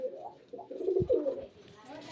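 Pigeons give a few soft, low, throaty coos close by in a quiet setting, in short rolling phrases.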